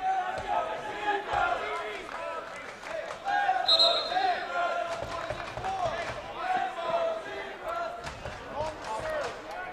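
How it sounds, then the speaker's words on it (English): A basketball crowd chants "Let's go Zebras" at an E-BOX 2023 game between Ireland and Israel, a loud, steady roar of voices in rhythmic rise and fall, with a commentator talking over it. "The crowd is chanting, "Let's go Zebras,""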